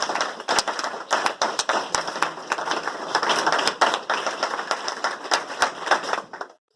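Brisk, rhythmic group clapping fills a hall during an honouring ceremony at a science talk. Sharp, loud claps land close together for several seconds before cutting off.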